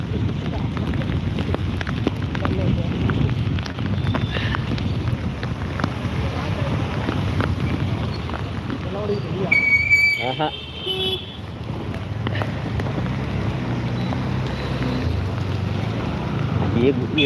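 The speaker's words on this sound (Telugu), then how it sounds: "ఈడ గాలి చూడు ఎట్టొస్తుందో" Strong Cyclone Montha wind roars continuously against the microphone in Nellore, India, buffeting in gusts, with rushing outdoor noise throughout and a brief clatter midway.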